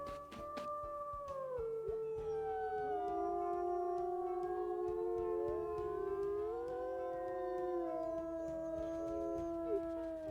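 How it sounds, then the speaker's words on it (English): A wolf in the WolfQuest game gives a long, wavering howl at moderate volume. The drawn-out calls glide up and down in pitch and overlap one another, with no talking. "every time she comes up to this area, she is just going to give a little howl"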